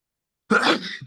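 A single sharp sneeze bursts out after a second of silence, close and abrupt, with a brief trailing breath.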